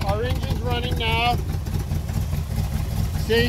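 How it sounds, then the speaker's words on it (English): A 1965 Corvette roadster V8 idling through side pipes after a cold start: a steady, low, even burble up close, with someone talking over it. "See our engine's running now."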